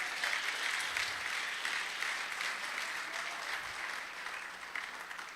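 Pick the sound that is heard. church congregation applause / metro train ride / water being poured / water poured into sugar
church congregation applause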